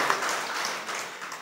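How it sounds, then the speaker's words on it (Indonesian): Church congregation at a Sunday service applauding, a short burst of dense clapping that fades slightly toward the end. "Beri tepuk tangan bagi Tuhan kita,"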